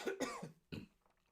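A sick man coughs several times in a quick harsh burst, then another rough cough after a short pause, close to the microphone with a raspy throat-clearing quality.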